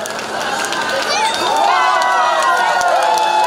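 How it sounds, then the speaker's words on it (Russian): A concert crowd at a town day celebration applauding and cheering, a dense continuous wash of clapping and shouts over a PA voice that speaks throughout. "Спасибо за теплый прием, за аплодисменты"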